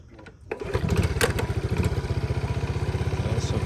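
A 1981 Honda Z50 motorcycle engine starts and settles into a steady, rapid putter with the choke on, close and even, running alone without talk.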